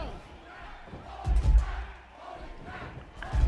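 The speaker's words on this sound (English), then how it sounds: "And the crowd is really appreciating this right now." A wrestling event crowd roars in a loud swell, fades back and then rises again at the end, with thuds and commentary-like voices mixed through the noise.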